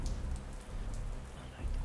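Steady rain falls in a VRChat roleplay scene, a dense continuous patter that stays even and fairly loud throughout, with no clear voices over it.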